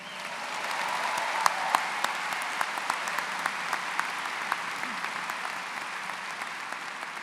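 A graduation ceremony audience gives steady applause for a soloist, a broad wash of many hands clapping with a few sharper, louder claps standing out, sustained throughout.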